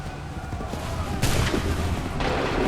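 Musket volley from massed soldiers in Assassin's Creed III, a loud broadband burst of fire erupting sharply and sustained amid battlefield noise, followed by a second surge.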